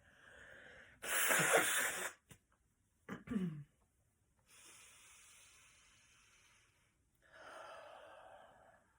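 Deep breathing during a pranayama exercise: a loud, breathy rush of air lasting about a second, a short gasp-like breath, then softer, steady hissing exhalations, close and alone with no talk.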